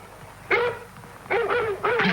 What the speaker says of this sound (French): Continue d'aboyer.